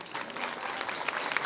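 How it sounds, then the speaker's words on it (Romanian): An audience at a folk music festival parade in Moinești applauds children, a brief burst of dense, steady clapping from a crowd at moderate distance. "să-i aplaudăm pe acești minunați copii"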